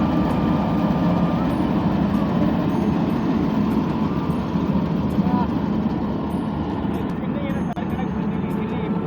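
A tractor-driven machine threshing wheat runs with a loud, steady mechanical drone and rumble throughout, with voices faintly audible beneath it.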